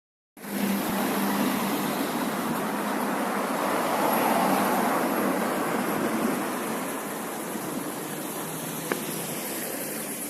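Steady, dense roar of busy city street traffic in Lviv, with cars passing continuously at moderate distance and no pauses, a constant wash of engine and tyre noise throughout.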